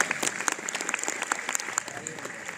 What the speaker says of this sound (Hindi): एक बार तालियां बजा करके बता दीजिएगा।